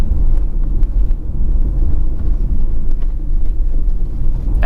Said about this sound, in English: let's see how it does on our neighborhood bumpy road